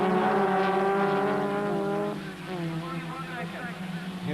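Formula Vauxhall Junior race cars at Mondello Park in 1991, heard as a loud sustained engine drone that fades somewhat as the cars round the final turn toward the start-finish line, with a commentator talking over it.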